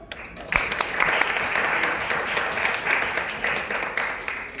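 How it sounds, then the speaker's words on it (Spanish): A theatre audience at a drama and social sciences gathering breaks into steady, dense applause that swells after a sharp first clap and holds evenly throughout. "le damos un gran aplauso"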